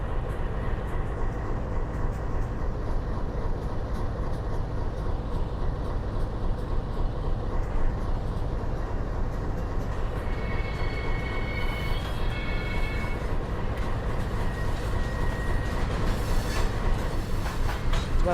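A coal train rolling in the Trainz TRS19 railway simulator, steady loud rumble of wheels and cars with rhythmic clatter throughout and thin squealing tones partway along, no voices.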